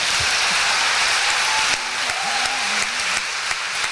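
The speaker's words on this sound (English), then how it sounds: "oh, you can clap." Steady, dense applause from an audience at a 2008 rhythm and blues awards event, a continuous wash of many hands clapping at even loudness throughout.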